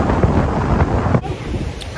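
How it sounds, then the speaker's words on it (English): Loud gusting wind buffets the microphone with deep rumbling roars in Umhlanga, then eases into a steadier rush of blowing air. "so windy."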